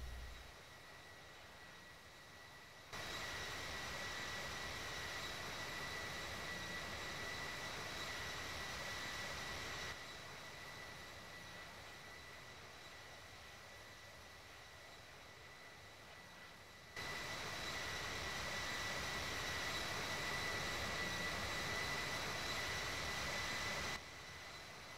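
Jet engines of a CRJ airliner climbing in the Infinite Flight simulator give a faint, steady whooshing drone with a thin high whine, and the level jumps between quieter and louder sections as the sound perspective shifts.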